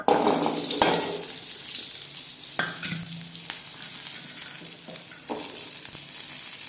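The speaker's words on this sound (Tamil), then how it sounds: "நெக்ஸ்ட்டு நம்மளோட வெங்காயம் பூண்டையும் போட்டுருவோம்." Chopped onion and garlic sizzle steadily in hot oil for a chutney, with a few sharp stirring clinks and scrapes of the spoon against the pan.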